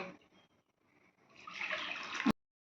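Hot water is poured into red lentils (masoor dal) set to boil in a pot: about a second of rushing, splashing pour, close and moderately loud, ending abruptly after quieter kitchen clatter.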